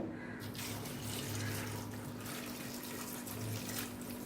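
Water runs steadily from a tap, a continuous close splashing flow with a faint low hum underneath, no voices.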